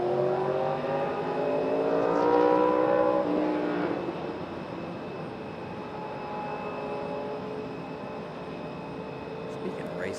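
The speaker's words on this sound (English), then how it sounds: "That is a good sounding bike" A motorcycle revs loud and close, its engine note climbing in rising harmonic sweeps over the first few seconds, then settling into a steady throaty drone as the bike holds or pulls away.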